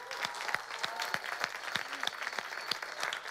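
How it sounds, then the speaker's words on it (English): Lively applause from the audience of a live variety show, with many hands clapping continuously at moderate volume, a few sharper claps standing out, and no talk over it. "Give yourself another round of applause."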